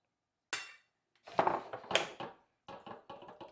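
Ingredients seasoned with salt and white pepper are stirred in a bowl for Chinese shrimp with white sauce: a few separate clinks and scrapes of a utensil against the dish, close and fairly quiet, with short pauses.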